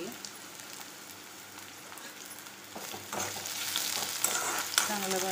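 Ridge gourd pieces roasting in a pan with coconut and peanuts, starting as a soft, quiet hiss and swelling into a louder crackling sizzle with occasional stirring clinks.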